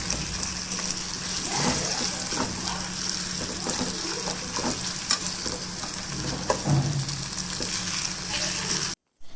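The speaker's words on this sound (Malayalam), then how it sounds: "അതിൽ തക്കാളി, കറിവേപ്പില എന്നിവ കൂടി ചേർത്ത് നന്നായി ഇളക്കി" Onion-tomato masala with curry leaves sautés in a pan for a netholi (anchovy) dish, a steady close sizzle broken by repeated scraping and stirring strokes, with a brief cutoff near the end.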